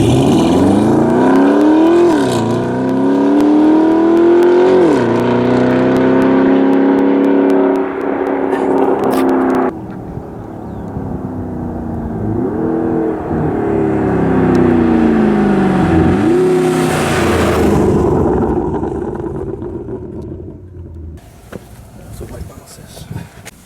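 A McLaren or Gemballa car accelerates through the gears, its engine note climbing and dropping repeatedly, loud and close from inside, then quieter cruising with another rev swell and speech over the drive.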